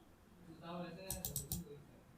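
A computer mouse double-clicks while opening a file: a quick cluster of sharp, light clicks comes right after a brief murmur of voice, all quiet against a near-silent room.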